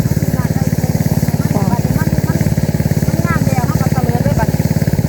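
Engine-driven water pump running while pumping water into a field, a loud close steady chugging drone with a fast even rhythm throughout, while people talk over it.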